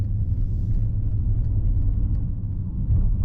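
Steady low rumble of a 35-year-old classic BMW car on the move, heard from inside as continuous road and engine noise with no talking.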